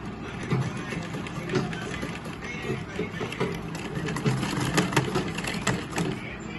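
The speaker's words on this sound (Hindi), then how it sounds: "इसको एकदम सीधा हम सी लेंगे, सिलाई चला लेंगे, स्टिच कर देंगे इसको एकदम सीधे पे" A sewing machine runs in rapid rhythmic bursts of stitching through a neck design, its mechanical whirring and ticking close and steady, with a person talking over it.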